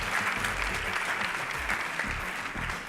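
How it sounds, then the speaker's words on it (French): Loud, sustained audience applause at a web festival, a dense wash of many hands clapping continuously without a break. "Ça mérite un applaudissement."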